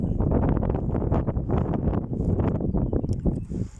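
Cold wind buffets a microphone outdoors on a farm selling long-haired calves, a continuous loud rumbling roar with gusty surges throughout.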